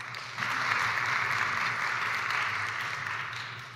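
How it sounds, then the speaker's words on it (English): A conference audience applauds during a session on gender equality and innovation in aviation. The clapping swells in quickly after a brief pause and holds as a dense, even roar of many hands before easing slightly toward the end. "Please give them a very warm round of applause."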